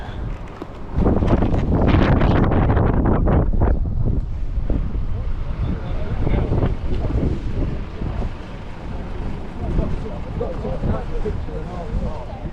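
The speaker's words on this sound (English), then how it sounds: "you could probably tell from the sound in that video there, it was so windy there" Strong wind roars and buffets the microphone continuously in Ireland, with a voice speaking underneath the gusts.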